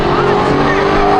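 A car engine rumbles and revs steadily at a big Atlanta car meet, loud and close throughout the short stretch, with crowd voices mixed in.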